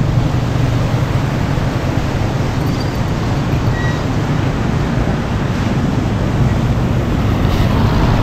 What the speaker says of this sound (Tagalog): Yung tunog ng tubig ay talaga pong nakakatakot sa tunog pa lang.